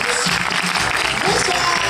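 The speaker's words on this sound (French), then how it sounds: "on les applaudit bien fort." Audience applause at a French film premiere, steady clapping from a crowd throughout the short moment, with voices mixed in.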